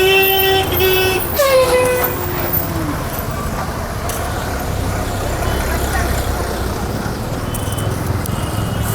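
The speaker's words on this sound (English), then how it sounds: "So much traffic." Busy street traffic in India, with a horn honking clearly near the start over a steady, loud rumble of engines and passing vehicles.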